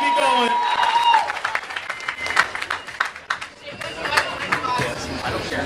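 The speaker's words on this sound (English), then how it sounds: "Round of applause for Jeff Dobson." A crowd at the Star Wars: The Old Republic launch event in New York City claps and cheers, with voices and chatter mixed through the applause, which rises and falls in uneven bursts.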